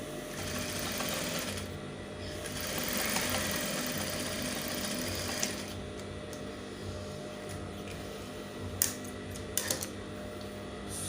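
A sewing machine stitches fabric for an illusion neckline, its motor whirring in a steady run with a brief surge in speed, followed by quieter mechanical clicks and taps close by.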